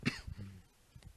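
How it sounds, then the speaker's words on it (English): A single short, sharp cough with a throaty edge, close to the mic and alone. "Ooh, got a cough there."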